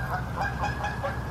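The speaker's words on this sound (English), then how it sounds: "Jeez, geese." Several geese honk in a rapid, overlapping series of nasal calls outdoors near a campsite tent, fairly close and continuous for the whole moment with no talking.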